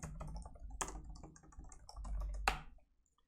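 Keys clatter on a computer keyboard in a short burst of close typing, with several sharper clicks and a firmer keystroke near the end before it goes quiet.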